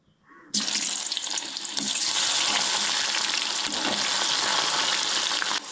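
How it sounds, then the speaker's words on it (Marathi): Sliced onions dropped into hot oil for a Goan-style biryani, bursting into a loud, steady, close hiss that starts abruptly and holds evenly until near the end, with no voices. "तेल बरें गरम करून घेवंक जाय आणि आतां भितर कांदो ॲड करूंक जाय"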